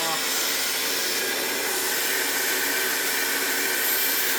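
A 1990s Panasonic MC-E53 upright vacuum cleaner runs with strong suction, giving a loud, steady, close airy roar and hiss that holds without a break.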